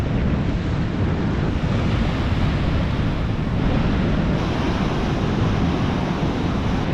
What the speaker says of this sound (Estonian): selle valli taga on mingi 2-meetrised lained vähemalt